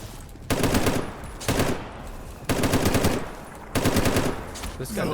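Automatic gunfire from a weapon in the video game S.T.A.L.K.E.R. GAMMA comes in four loud, rapid bursts, each about a second long, separated by short pauses.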